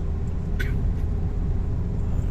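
A car cruising in high gear, a low steady engine rumble and road drone heard from inside the cabin, with a faint brief click partway through.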